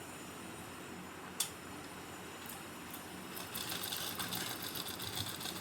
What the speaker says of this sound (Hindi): ऐसे ही हम एक बार यहाँ भी कर देते हैं पक्की सिलाई।